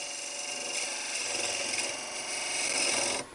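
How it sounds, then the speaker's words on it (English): A beading and parting tool takes a peeling cut on a spinning piece of wood on a lathe while shaping a tenon for an icicle ornament, a steady close rasping shear over the motor's hum, stopping abruptly at the end. "Take a peeling cut here, almost riding the bevel."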